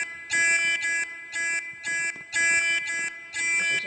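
A fire alarm sounds during a test in the Roblox video game, a loud electronic buzzing horn pulsing on and off in a steady temporal pattern with short gaps, alone and clear.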